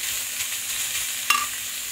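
Banana stem frying in a pan with onion, garlic, green chillies and dried red chillies, a steady close sizzle with a single sharp utensil clink partway through.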